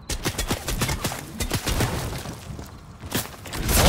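Rapid gunfire in the Fortnite video game, bursts of sharp cracking shots in quick irregular succession, loud and close, with a short lull before another volley near the end.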